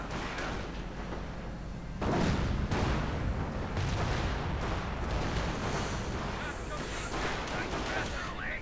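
Anti-tank guns fire in a World War II strategy game as Panzer grenadiers advance, with heavy booms and crashing bursts over a constant battle rumble while a commentator talks throughout.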